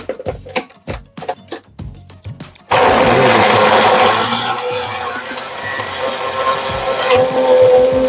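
A blender whirs loudly and steadily, churning a KitKat milkshake with six to eight ice cubes, after a run of short sharp taps and knocks at the start, with no voices.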